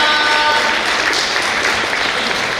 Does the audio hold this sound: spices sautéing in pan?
no